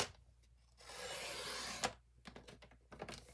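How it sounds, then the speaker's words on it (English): Paper trimmer slicing through two pieces of card at once: a quiet rasping slide of the blade lasting about a second, followed by a sharp click and a few light taps and rustles of handling. "Don't you just love this trimmer? Look, cut both of them at the same time."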